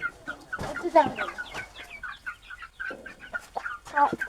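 Chickens cluck and murmur in short, irregular bursts at close range, with a few louder squawks and pauses between calls over a quiet background.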